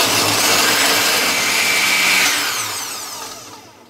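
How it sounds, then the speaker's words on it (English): Blender whirring a frozen plum, lemon and ginger smoothie with milk, a loud steady motor roar for about two seconds before spinning down and fading. "I'm going to go ahead and turn my blender on and get this all mixed up really well."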